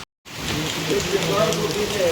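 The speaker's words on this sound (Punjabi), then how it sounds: "ਮੀਂਹ ਪੈ ਰਿਹਾ ਜੀ" Continuous hiss of rain falling steadily, moderately loud and close, following a brief silence at the start.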